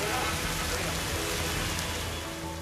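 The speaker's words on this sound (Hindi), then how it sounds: "इंदौर के ज्यादातर इलाकों में दिन भर बादल छाए रहे और झमाझम बारिश होती रही" Heavy, steady downpour in Indore, a dense continuous hiss of rain hitting surfaces with no letup, fairly close and uniform throughout.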